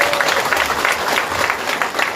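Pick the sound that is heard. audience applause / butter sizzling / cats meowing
audience applause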